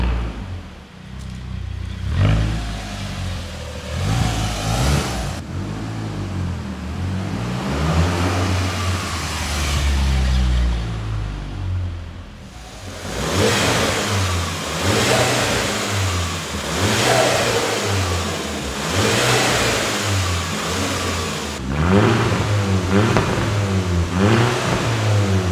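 Rebuilt VW Scirocco R TFSI engine revving up and down repeatedly from idle, close and loud, with smooth rising and falling engine pitch over about 25 seconds.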